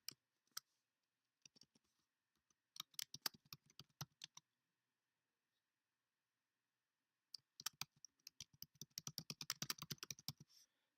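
Quick bursts of clicking keystrokes on a computer keyboard as a photo caption is typed, with a short patter early on, then a longer steady run of close taps near the end, and quiet pauses between.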